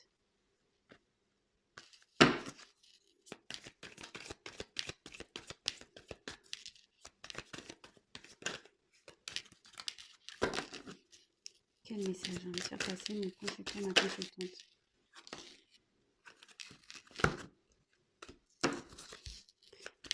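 Tarot cards are shuffled and handled in quick riffling bursts and soft slaps, with a longer stretch of steady shuffling midway, interleaved with someone speaking.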